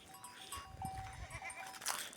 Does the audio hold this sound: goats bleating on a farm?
yes